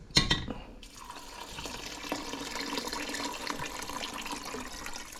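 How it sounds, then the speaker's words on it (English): Water pours steadily into a pot of rice cooked with low-sodium chicken broth, a continuous splashing, trickling stream close by after a brief clatter at the start, with no talking. "I'm going to add some water."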